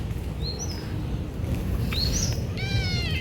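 A cat outside in the evening lets out a clear, drawn-out meow near the end, after a few short, high chirpy calls, all over steady background hiss.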